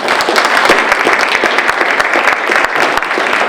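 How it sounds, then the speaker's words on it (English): Loud, close applause at a chamber of commerce breakfast, with sharp individual claps standing out in a busy, continuous clatter of hands from start to finish. "A big round of applause from Marta and Jackie."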